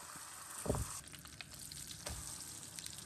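Boiled lentils hitting a hot pan, a soft steady sizzle with two dull thumps of food or utensil landing, fairly quiet and close, without speech.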